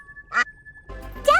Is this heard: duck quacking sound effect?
yes